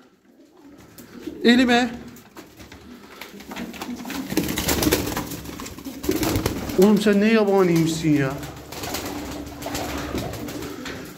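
Tumbler pigeons cooing close by in a flock of racing birds, with repeated throaty warbling coos rising and falling over several seconds while someone speaks nearby.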